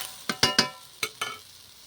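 Papaya is stirred in a pan for a Bengali moong dal and cashew papaya dish, five distinct spatula scrapes and knocks in an uneven rhythm over a faint sizzle, close and clear.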